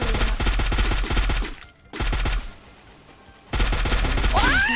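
FAMAS rifle fire in a shooting video game: loud, rapid automatic bursts, then a quieter gap, then another close burst of shots.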